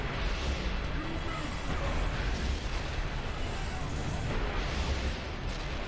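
Grenades and heavy weapons go off in Warhammer 40K: Space Marine, a dense, continuous roar of overlapping explosions and booming battle noise filling the whole stretch at high loudness.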